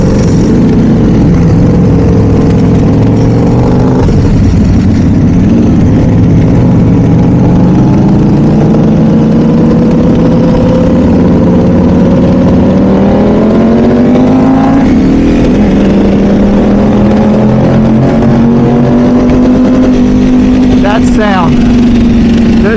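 A Ducati Desmosedici, a MotoGP-derived street motorcycle from the mid-2000s, runs loud and close with a throbbing engine note that rises and falls in pitch as the throttle is worked, with a voice briefly heard underneath.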